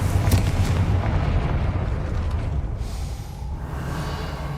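Confringo fire spell blasting a gate in the video game Hogwarts Legacy: a loud booming explosion with a sharp burst at the start, then a rumbling roar that slowly fades, with no talk.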